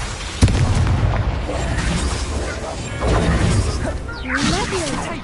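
A Confringo fire spell explodes in the Hogwarts Legacy video game, a sharp boom near the start followed by rumbling blasts and crackling magic effects, with a voice calling out spells over the din.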